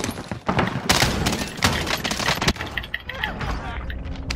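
Loud video game gunfire in a fast exchange, with clustered shots and bursts at close range, partly under excited voices talking.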